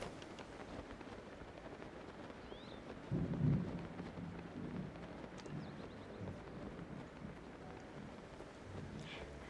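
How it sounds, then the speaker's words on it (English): A deep rumble of thunder rolls through steady rain and swells around the middle before fading into a continuous stormy wash, with no speech. "There was a very loud thunder right then."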